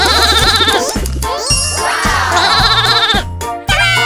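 Cartoon sheep bleat in a loud, wavering call over bright animated music with jingling tones and a steady beat.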